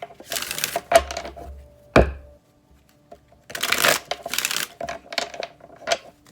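Tarot cards being shuffled up close in several quick riffling bursts, separated by short pauses and a sharp tap, with no talking.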